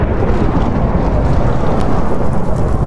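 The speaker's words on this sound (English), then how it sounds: "I'll do summon lightning bolt instead" Thunder from a summoned lightning bolt strike in Minecraft, a loud sustained rumbling crash that fills the whole clip with dense low roar and a hiss of rain-like noise.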